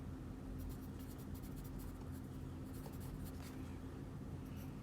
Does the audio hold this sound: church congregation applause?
no